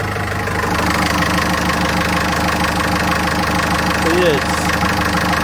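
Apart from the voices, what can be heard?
Yanmar boat engine idling in insulated engine box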